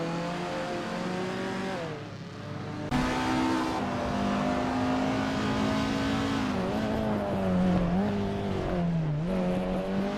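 A 1964 Porsche 356C racing in a Group 3 field on a tight track in a video game, its engine droning steadily with rising and falling revs as it shifts, plus other cars heard alongside.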